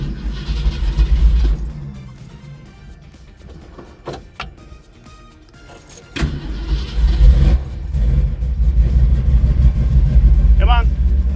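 A carbureted car engine cranks, catches and roars up before settling toward a rough idle, loud and close, with a few clunks and a person speaking over it.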